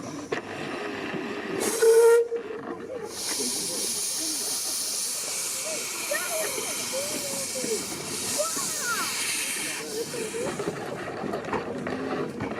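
A Muncaster Express Halloween ghost train rumbles along with a continuous steam-like hiss and clattering, faint squeals rising now and then, while people talk over the noise.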